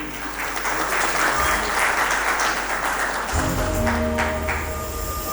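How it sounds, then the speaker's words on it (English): An audience at a closing dinner gives a sustained round of applause for families, a steady wash of many hands clapping at moderate level, with faint ringing tones and a low hum rising in the latter part. "I think they deserve a huge round of applause."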